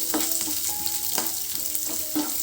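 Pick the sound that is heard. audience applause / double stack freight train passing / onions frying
onions frying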